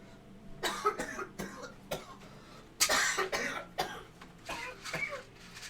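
Repeated coughing fits from one person, about eight harsh bursts spaced unevenly, some with throat clearing, close to the microphone and alone without talk.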